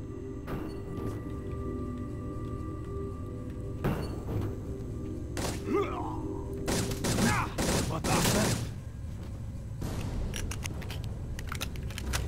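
A six-shot revolver laser gun fires in the sci-fi shooter Mace Griffin: Bounty Hunter, with sharp shots in scattered bursts, including a dense cluster, over low humming game ambience.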